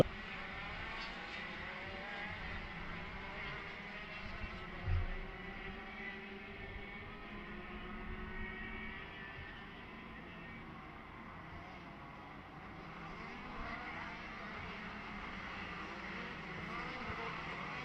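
Racing kart engines buzz and rise and fall through the gears on a formation lap at Shenington kart circuit, a continuous distant drone from several karts with a faint thump partway through.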